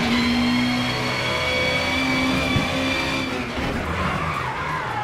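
A Peugeot 406 BTTC touring car slides across a road on the wrong tyres in a racing video game, with a steady engine drone and a sustained tire skid that runs loud through the first seconds before roughening and easing.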